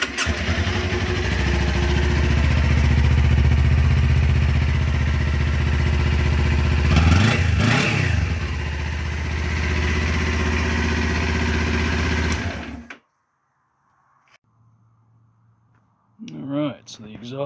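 Kawasaki Ninja 400 motorcycle with its stock exhaust, idling loudly and steadily up close for about twelve seconds with a brief rev in the middle, then cutting to near silence before another engine burst at the end.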